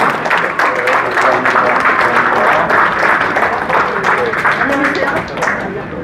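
An audience gives a dense, sustained round of applause at the opening ceremony of the Incheon Hotel Art Fair 2023 in the Songdo Central Park Hotel, welcoming former prime minister Hwang Kyo-ahn. The clapping holds steady throughout and eases slightly near the end.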